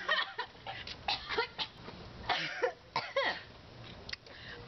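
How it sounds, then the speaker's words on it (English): A person coughs in a string of harsh, close, irregular bursts after attempting the cinnamon challenge, with throat clearing between fits and no clear talking. "he coughed before"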